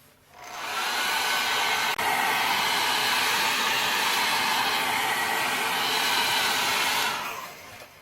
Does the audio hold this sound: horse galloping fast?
no